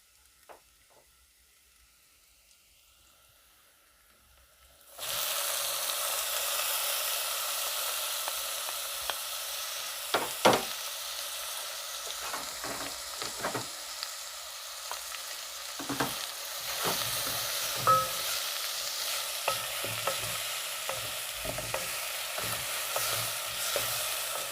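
Tomatoes hit a hot pan of softened onions for chicken biryani: after about five seconds of near silence a loud, steady sizzle starts abruptly and continues, with occasional stirring clatters and scrapes.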